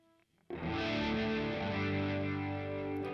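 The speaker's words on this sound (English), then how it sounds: "we'll start with the plate reverb, and we'll see what that sounds like" A distorted electric guitar chord through a Boss Katana MK2 amp's plate reverb rings out suddenly and sustains with a lush, washy reverb tail, following a brief quiet lead-in.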